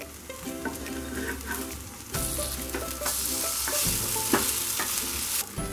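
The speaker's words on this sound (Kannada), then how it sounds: "ಸ್ವಲ್ಪ ಆಯಿಲ್ ಹಾಕ್ಕೊಳ್ಳೋಣ. ಸಿಮ್ ಫ್ಲೇಮ್ನಲ್ಲಿ ರೋಸ್ಟ್ ಮಾಡ್ಕೊಳ್ಳಿ." Food roasts in a little oil in a pan over a low flame, giving a steady close sizzle with occasional scraping and stirring clatter of a spatula throughout.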